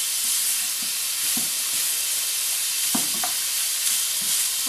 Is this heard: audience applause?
no